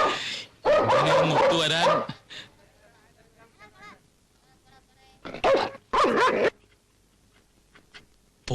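Dogs bark in two loud, clustered bursts separated by quieter stretches in a Malayalam film scene, with speech occurring around them.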